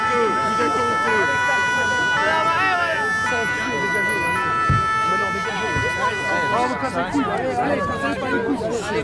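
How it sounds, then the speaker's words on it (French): An emergency vehicle siren wails steadily beneath a noisy street scene at a climate protest road blockade, with crowd chatter, shouting voices and passing traffic throughout. "Les courageux, ils entendent une sirène"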